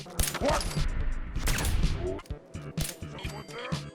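Rapid gunfire in a video game fight against super mutants, with bursts of sharp shots crackling in uneven clusters and a voice speaking in the background.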